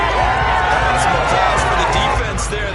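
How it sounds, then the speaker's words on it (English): A football stadium crowd applauding the defense after an incomplete pass, with a steady, dense roar of clapping and cheering that holds throughout while a commentator talks over it. "Some applause for the defense"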